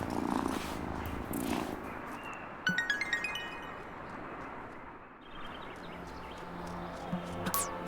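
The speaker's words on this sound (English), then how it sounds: "Oh, such a good cat." A video game cat purrs steadily and close, a soft continuous rumble under gentle background music with chiming notes.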